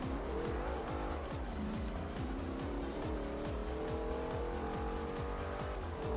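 A car in the Forza Horizon 2 racing game revs hard and accelerates with loud tire squeal, the engine note rising in repeated sweeps as gears shift, steady and close with no talking.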